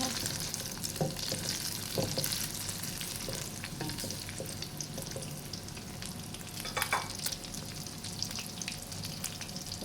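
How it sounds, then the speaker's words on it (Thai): Mushroom and holy basil omelette frying in a hot pan over medium-high heat, a steady dense sizzle and crackle with a few stirring scrapes, continuous and close with no talk. "เร่งไฟกลางค่อนไปทางแรงนะคะ ไข่จะได้แบบมีความกรอบนอกนุ่มในนะคะ"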